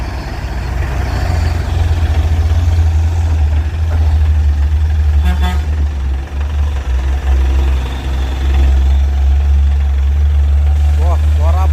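A heavy truck idles nearby in neutral with its gearbox rattling, a steady low engine rumble running throughout as traffic passes on a road, including a bus and a trailer, with faint voices and a brief squeal near the end.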